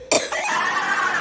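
A person coughs once loudly and sharply, followed by a rough, breathy exhale that trails off, heard up close during a contest challenge.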